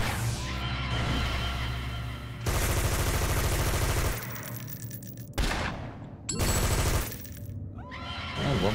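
Gunfire from the City of Villains game, dense automatic bursts and loud blasts in several blocks separated by brief quieter gaps.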